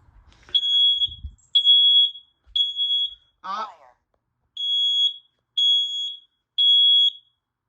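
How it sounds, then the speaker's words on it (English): A household smoke alarm is tested and sounds in a series of loud, piercing electronic beeps, seven bursts of about half a second each, interrupted once by a brief voice in the middle. "But yeah, the smoke alarm works."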